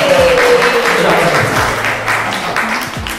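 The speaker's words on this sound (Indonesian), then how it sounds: "tepuk tangan dong untuk Pak Aris." Applause from a crowd at a hypnosis demonstration fills the room, a steady wash of clapping with some voices mixed in beneath it.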